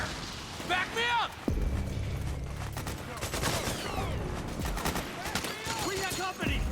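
Rapid suppressing gunfire from Metal Gear Solid 4, with dense bursts of shots and booms that run throughout, loud and continuous, while voices shout over the battle.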